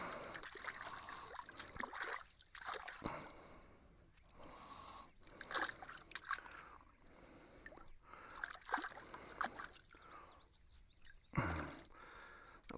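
Stream water splashes and trickles in irregular bursts as someone washes their face and hands outdoors by a pasture, fairly faint and close, with brief movements and no speech.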